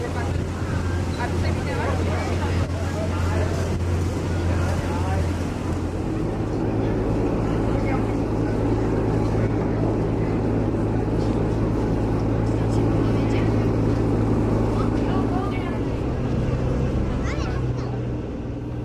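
A New York Harbor ferry boat's engine makes a steady low drone throughout, with a rumbling hum and wind buffeting the microphone; a faint tonal whine shifts partway through.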